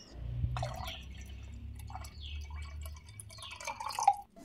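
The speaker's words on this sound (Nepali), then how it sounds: "2 गिलास पानी राख्ने" Two glasses of water are poured into homemade curd for masala chaas, a faint trickle and splash of liquid into a vessel with small drips and clinks in a quiet kitchen.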